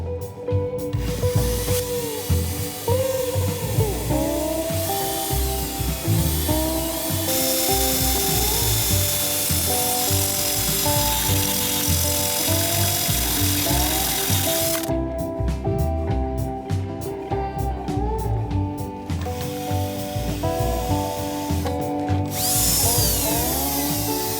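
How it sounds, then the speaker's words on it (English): Power drill boring out rivets on the front suspension of a Ford Pinto, a steady loud whine and grinding that runs almost without a break, with a few short pauses and some metallic clatter and ratcheting. "I might just need to drill these ones out."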